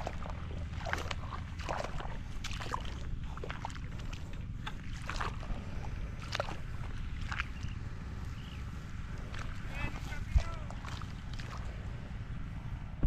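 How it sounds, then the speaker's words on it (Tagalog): A steady low engine drone from a Robin engine-driven irrigation water pump watering a bitter gourd field runs throughout, close and constant, with faint scattered clicks and rustles over it. "Ang gamit niya yung makina sa baba, tayo gamit natin yung Robin."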